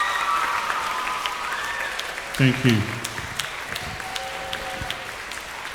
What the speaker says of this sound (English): Could you please both come out and give it a round of applause?